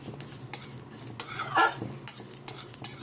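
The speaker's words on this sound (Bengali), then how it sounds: "এখানে কড়া চাপিয়ে জিরে, মৌরি আর জোয়ান, শুকনো লঙ্কা, এইগুলোকে সুন্দর করে ভেজে নেব।" Cumin, fennel, ajwain and dry red chili fry in a kadai, heard as brisk metallic stirring clinks and scrapes over a faint, low sizzle in short bursts.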